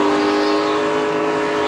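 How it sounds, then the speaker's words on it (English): A NASCAR Xfinity Series race car at Phoenix International Raceway screams at high revs as the driver squeezes the throttle, a loud continuous engine note holding steady throughout. "you can hear Junior tried to squeeze that throttle"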